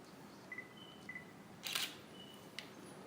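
A Nikon D3100 DSLR fires its shutter once indoors by a window, a short crisp mechanical snap with a faint follow-up click, preceded by two soft autofocus beeps over quiet room hiss.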